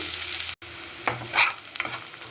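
Crushed garlic and chopped onions fry in ghee, a close sizzle with a few quick stirring scrapes and clatters, brief and without talk.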